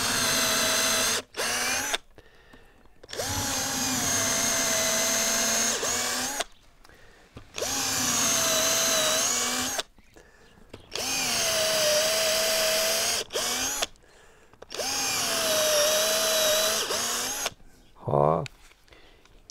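Power drill boring slanted holes into a tree trunk in a garden, four long whining bursts of several seconds each separated by short pauses, close and loud, with a brief voice at the end.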